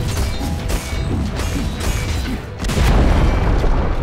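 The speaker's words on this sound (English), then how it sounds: "Dire's top tower has fallen." A Dota 2 tower collapses in a loud, dense crash of booming impacts and rumbling debris, sustained and swelling toward the end.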